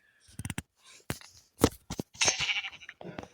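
Several short bleats from a Minecraft sheep ring out, spaced irregularly among other brief game sounds, fairly clear and close.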